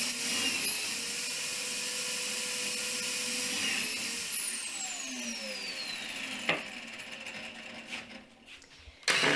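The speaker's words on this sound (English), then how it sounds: "Here I'm screwing in the top rail." A power driver runs screws into the top rail of a farmhouse coffee table: a steady, fairly loud whirring motor drone that winds down after several seconds, with a brief sharp knock near the end and no talk.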